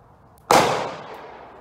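A single loud rifle shot from a Ruger American Go Wild chambered in .300 Win Mag, fired outdoors at a target, with a sharp crack and a long decaying echo.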